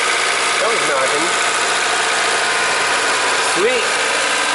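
A car engine idles after a new ignition coil is fitted, running as a steady, even mid-pitched hum throughout, while a person talks briefly over it.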